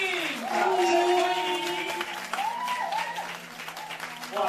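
An audience at a premiere launch event applauds a team of actors playing doctors as they come on stage, with clapping under loud music and cheering.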